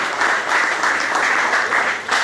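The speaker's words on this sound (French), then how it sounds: "Chers amis, on va l'applaudir très fort pour l'encourager" An audience applauds steadily at a culinary award event, a dense, even wash of clapping heard close and continuous throughout.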